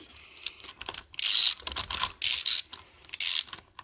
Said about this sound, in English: Now I am using a ratchet.